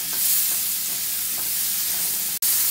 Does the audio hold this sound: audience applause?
no